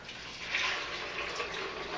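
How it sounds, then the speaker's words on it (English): Filtered water pours steadily into a high-speed blender jar for almond milk, a continuous splashing, hissing stream close by. "we take the filtered water, we take the high-speed blender, and we just pour it in there"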